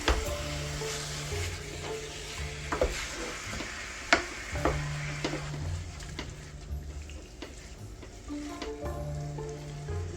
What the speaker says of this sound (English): Stir it up in there.